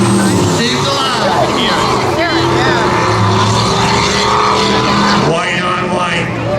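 Four-door work pickup trucks drag racing in a spectator event at Beech Ridge roar continuously, loud and close, with engine drone and crowd noise throughout, while an announcer talks over the sound.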